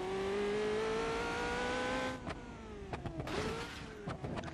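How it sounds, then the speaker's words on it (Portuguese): A police car engine with a broken exhaust in BeamNG Drive gives a steady, droning hum for about two seconds, then drops into rough, uneven revving with a few sharp knocks. "quebrou o cano de escape, o barulho ficou mais da hora"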